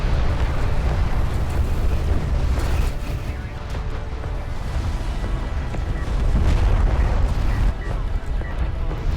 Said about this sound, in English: This attack missile barrage is gonna land as well